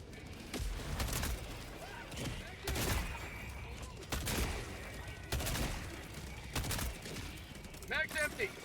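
Gunfire in the video game Helldivers, with repeated bursts of shots in clusters, loud and near, mixed with game effects and a voice talking over it.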